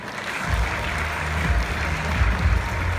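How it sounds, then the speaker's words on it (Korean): Loud, dense applause from the audience at a Korean bank's launch ceremony, many hands clapping steadily and close, with a low rumble underneath. "큰 박수 부탁드리겠습니다"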